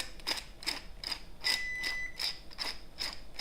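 A pepper mill cracks black pepper over vegan sausage gravy, a run of about eight rhythmic ratcheting grinds, close and crisp, with no talk.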